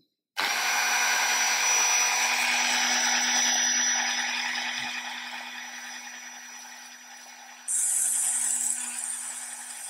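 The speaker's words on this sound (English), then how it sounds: "Well, let's start by drilling it out." A small power drill whirs steadily while boring out a gap in a 1/64 scale HMS Fly ship model. The tone is loud and close, eases slightly midway, then rises sharply near the end.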